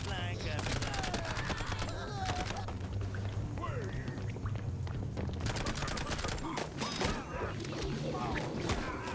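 The James gun, an assault rifle in a video game, fires in rapid bursts of sharp shots, broken by short pauses and mixed with game effects and a voice talking over the action.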